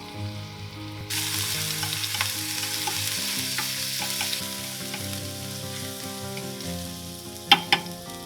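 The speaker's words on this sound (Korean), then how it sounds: "팬에 기름을 두르고 양파와 다진 마늘 한 큰술을 볶아줍니다." Onion and a tablespoon of minced garlic stir-fry in oil in a pan for rosé pasta, with a steady sizzle that jumps louder after the first second, light scraping stirs throughout and a couple of sharp utensil clicks near the end.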